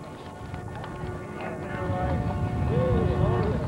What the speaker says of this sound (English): Lloyd Howard of Emmitsburg, Iowa, purebred Arabian horse.